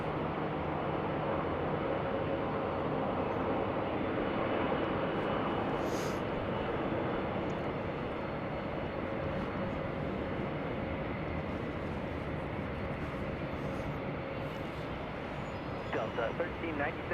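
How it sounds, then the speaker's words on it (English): An Airbus A321 airliner prepares for takeoff at Salt Lake City airport, a steady, broad jet engine roar that stays constant throughout, with voices speaking faintly under it. "we got an A321 getting ready to take off"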